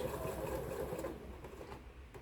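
A sewing machine stitches a quilt block for a flowering snowball pattern using a quarter-inch foot, its steady close motor hum running alone and easing slightly softer partway through.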